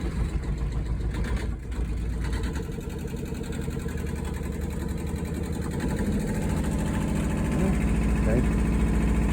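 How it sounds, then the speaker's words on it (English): A Yanmar 18 horsepower GM2 diesel boat motor runs steadily underway with a loud, close, rhythmic chugging throb, someone talking over it. "It's a pretty quiet motor for a motor, you know? Yanmar, 18 horsepower. GM2."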